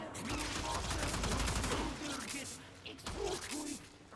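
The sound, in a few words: gunfire from enemies shooting in the Warframe video game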